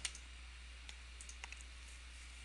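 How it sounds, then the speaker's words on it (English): Faint mouse clicks as a link is selected in a course menu on a computer, a few sparse, light taps scattered over a quiet, humming background. "I'll be clicking on the live lectures link on the left under my course menu"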